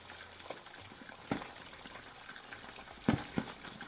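Food deep frying in a large amount of oil gives a low, steady bubbling sizzle, with a few sharper pops and crackles rising above it; the sound is fairly quiet throughout.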